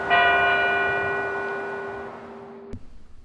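A large church bell from a ruined castle chapel, once removed from its tower for being too noisy, struck once and left ringing with a long, slowly fading metallic hum, followed by a brief knock near the end.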